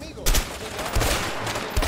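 Gunfire in the video game A Way Out, several loud close shots in quick succession over a dense, noisy background.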